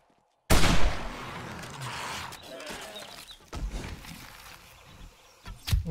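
Gunfire in the video game 7 Days to Die (Alpha 16, Valmod Overhaul) starts with a sudden loud burst and is followed by a rumbling, echoing tail. Scattered sharper cracks follow, with another loud report near the end.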